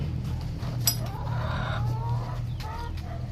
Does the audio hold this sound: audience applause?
no